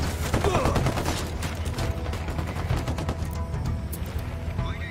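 Rapid bursts of gunfire crackle and pop nearly continuously in the tactical shooter Ghost Recon Wildlands, loud and close, with overlapping shots and a few heavier booms.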